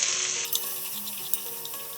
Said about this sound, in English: in the rendered fat I'm going to put the onion.